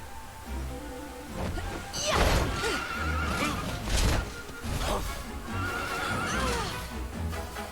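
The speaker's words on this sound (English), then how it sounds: "Got a kick-ass new horse." Horse neighing with clip-clopping hooves in the video game Dragon Quest XI, a loud whinny near the start followed by repeated neighs and hoof steps over game music.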